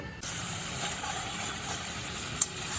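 Grated tomato sizzling and frying in a hot pan with oil, a steady close hiss and crackle throughout, with a brief clink near the end.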